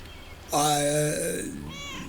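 Cats meow in a video game set in a small lake town: a loud, close, drawn-out meow followed by a shorter, softer second one.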